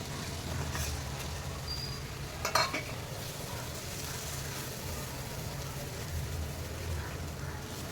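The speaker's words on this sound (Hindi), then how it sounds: "टमाटर के साथ हमारा मसाला बहुत अच्छे से भूनना चाहिए" Masala cooked with tomato puree sizzles steadily in oil while a spoon scrapes and stirs it, with a brief metallic clatter partway through; quiet and close, with no talk.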